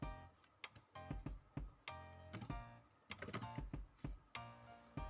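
Java code typed on a computer keyboard, with irregular bursts of crisp key clicks and short pauses between runs, close and fairly quiet.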